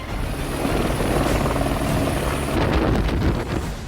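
A helicopter on the Kedarnath shuttle route flies close by, its rotor and engine making a loud, continuous throbbing roar that holds steady throughout.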